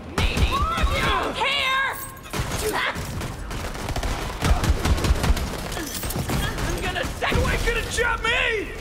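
Loud bursts of rapid gunfire ring out in the video game Borderlands 3, with dense volleys broken by brief pauses, mixed with shouting voices and swooping game effects.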